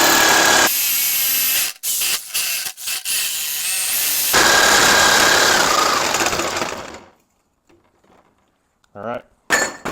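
A power saw cuts the wooden legs off a DIY cargo box for a Ford F150 camper, a loud sustained buzzing whine broken by short dips for several seconds, then cutting out to near quiet with a few faint handling knocks.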